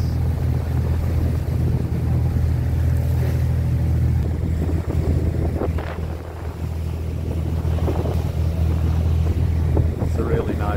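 A motorboat runs off Apo Island on a scuba diving trip, with a steady, loud, low engine drone throughout, mixed with wind buffeting and water noise.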